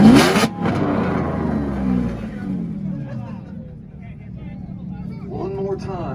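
A big-body Mercedes-Benz engine revs hard at an import rev battle meet in Tulsa, Oklahoma, a loud surge fading into a sustained idle rumble beneath crowd noise and talk.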